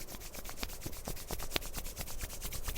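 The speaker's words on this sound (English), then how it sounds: "I'd like you to rub your palms together." Hands rubbing palms together during a guided relaxation exercise, a faint, steady, rhythmic swishing of skin on skin at close range with no talking.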